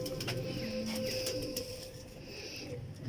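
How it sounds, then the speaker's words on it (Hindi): A pigeon coos softly and repeatedly close by, low gentle calls under a steady background hum, with a few faint clicks. "कैसा खूबसूरत कबूतर है।"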